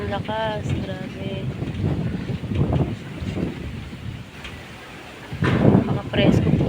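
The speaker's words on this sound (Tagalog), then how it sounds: "Grabe po lakas ng hangin, oh." Strong wind buffets the microphone in heavy, rumbling gusts, with a person talking in Filipino intermittently over the roar.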